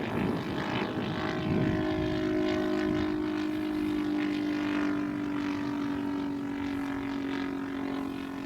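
A quarter-scale model Hawker Hurricane airplane flies with its engine droning steadily, holding a constant pitch throughout, fairly loud and continuous without interruption.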